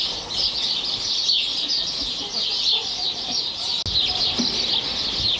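Garden chickens cluck and chirp in a steady high chatter close by, a continuous flock din with a brief thump partway through.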